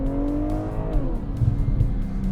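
A BMW M340i Touring six-cylinder engine revs up with a smooth rising tone, then the pitch drops as it shifts, followed by low rumbling and faint exhaust pops.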